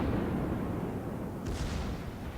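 A naval gun salvo fires in the World of Warships naval combat game, heard as a single sharp blast over a constant loud rumbling background.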